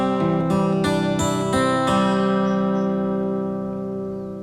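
An acoustic guitar plays a fingerpicking pattern at a faster tempo, with bass and treble strings plucked in a rolling sequence and the final chord left ringing as it fades.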